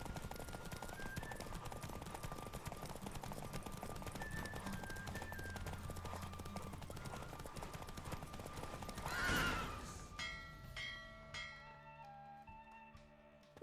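Hooves of a horse galloping in The Witcher 3, a fast steady clip-clop under game music, followed by a whinny and the gait slowing to a stop at the end.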